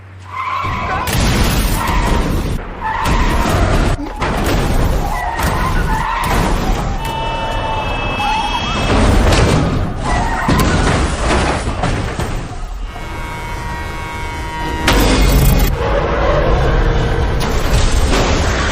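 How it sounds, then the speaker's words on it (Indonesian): A car skids hard in a film scene, nearly colliding with a military truck carrying a pack of dogs; loud screeching and impact-like booms recur through a dense, dramatic soundtrack with music throughout. "Jung Won hampir saja mengalami kecelakaan dengan mobil militer yang membawa"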